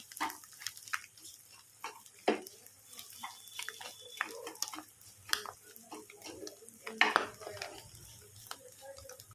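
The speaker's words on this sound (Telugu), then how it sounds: "కారం అయితే అంతా కలిపేసుకోవాలి" Chili and egg masala being stirred in oil in a pan, irregular scraping and clinks of a spoon against the metal pan with soft sizzle underneath, close and intermittent, no voices.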